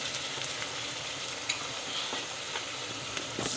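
Chicken pieces sizzle and fry in a masala base in a home kitchen pan, a steady crackling hiss with occasional sharper pops and stirring scrapes, close up and alone.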